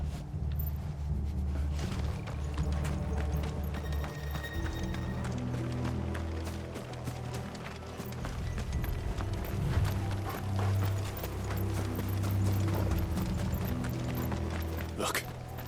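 Horses gallop in Final Fantasy XVI, with steady hoofbeats running under a dense game soundtrack and rumbling effects for the whole stretch.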